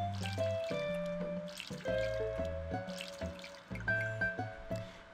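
A watering can pours in the farming game Harvest Moon: One World, a series of short, bright, watery splashing and dripping tones in an irregular rhythm, each splash followed by a brief pause.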